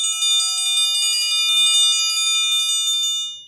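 A triangle struck at an angle on its bottom leg rings out loud and close, a bright shimmering tone that sustains for about three seconds before fading, with no voices.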